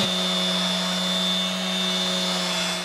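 Sanding by hand or with a small power sander on a wood-built artwork, smoothing the material between glued elements; a steady, continuous abrasive whir with a constant tonal hum, close and fairly loud throughout.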